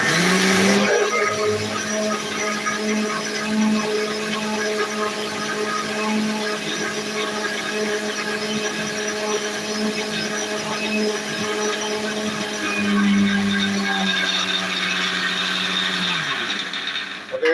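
A mixer grinder crushing chilies with water whirs steadily with a strong motor hum, running continuously before winding down near the end.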